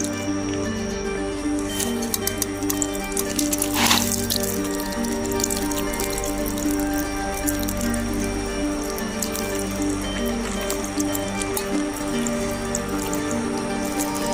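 Water trickles and drips onto freshly sown coriander seeds in soil, a close and continuous patter of splashes with a brief louder gush near the start. It runs steadily throughout with no talking.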